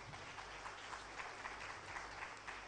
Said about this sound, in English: round of applause for Prakash